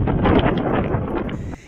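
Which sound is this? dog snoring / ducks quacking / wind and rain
wind and rain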